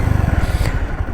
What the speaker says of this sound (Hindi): तो ये रेस की आवाज़ आप सुन सकते हो।